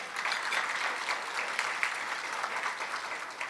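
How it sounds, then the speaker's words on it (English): A luncheon audience claps steadily for a mayor being introduced, a dense, even wash of many hands that holds at a moderate level throughout with no talk over it. "let's give him a round of applause"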